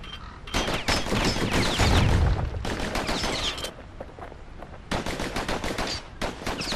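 Dual slinger pistols firing in the video game Bastion: dense, rapid bursts of loud close gunfire in long rattling runs, broken by brief pauses, with a heavy low thump partway through.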